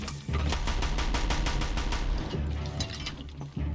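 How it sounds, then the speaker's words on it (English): Long machine gun firing in the video game Horizon Zero Dawn, a continuous rapid burst of loud shots with mechanical clatter lasting several seconds, close and dense with no talk. "It's a damn freaking long machine gun."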